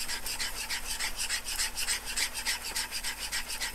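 Block plane iron bevel being honed on a 16000 grit stone with light to moderate pressure, a quiet rhythmic rasping rub of steel strokes repeating back and forth, close and alone.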